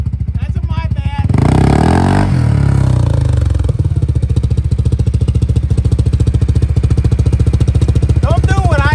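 A CFMOTO ZForce 500 engine roars up against its rev limiter, a loud close buzzing drone that holds, then drops back to a rough steady run, with a voice speaking over it.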